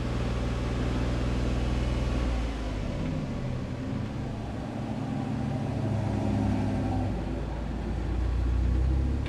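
Geo Metro 1.0 three-cylinder engine idling after a fuel injector replacement, a low steady rumbling hum that dips slightly midway and swells again, heard up close with no talking.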